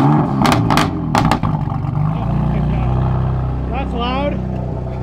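A BMW F80, making around 500 wheel horsepower, with downpipes and midpipe and no muffler, rumbles and revs hard close by, a deep droning exhaust under clattering noises and people talking.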